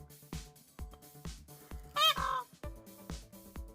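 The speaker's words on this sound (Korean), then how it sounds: "한참 나무 흔드는데 뒤에서 꽥꽥대고 있네." Noisy fowl squawk and honk close by in a mountain woodland near a wooden house, with short rhythmic calls repeating and one louder, harsher burst of squawking in the middle.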